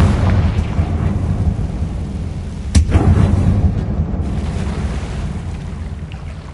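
A Confringo blasting curse explodes in Hogwarts Legacy on PlayStation 5, a sharp burst near the three-second mark over a steady, loud, booming rumble of game ambience.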